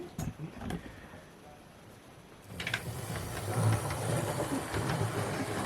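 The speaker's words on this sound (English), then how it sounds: "You can see the locomotive now heading down the track" A model railway locomotive, County of Monmouth, runs around the track with a soft rolling rumble and faint clicking that grows louder as it approaches; someone talks quietly over it.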